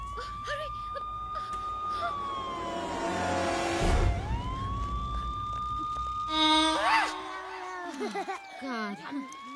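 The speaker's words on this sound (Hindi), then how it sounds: "इसमें क्या है? पुलिस सायरन है, इससे लोगों को डराएंगे।" A toy police car siren wails with rising and falling electronic tones, loud and close, then breaks into faster warbling bursts near the end, with some voices around it in a Hindi comedy film scene.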